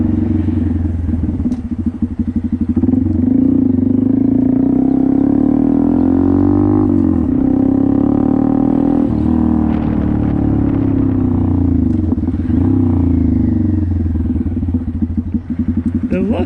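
Small Honda Grom motorcycle cruising around town, its engine droning steadily and close throughout with faint rattles and shifts in pitch, while someone talks over it.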